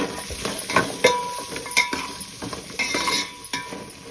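Garlic frying in a pan for a ground masala, with soft sizzling under repeated stirring scrapes and light utensil knocks against the metal, close and steady.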